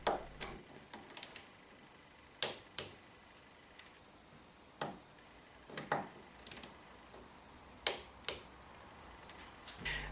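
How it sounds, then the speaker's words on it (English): A torque wrench tightening screws on a Skoda Superb fuel filter housing gives a series of sharp, separate clicks spaced irregularly over a quiet background, each one crisp and close. "Once you've gone through all the screws one time with the torque wrench, do it again as well."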